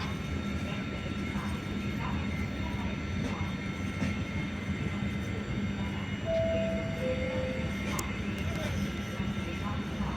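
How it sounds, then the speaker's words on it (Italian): A regional express train pulls into a platform at Padova station with a steady, low rumble of wheels on rails. An announcer's voice plays over the station PA above the continuous noise. "Il treno regionale veloce 3503 di Trenitalia, proveniente da Verona Porta Nuova e diretto a Venezia Santa Lucia delle ore 16:22, è in arrivo al binario 5"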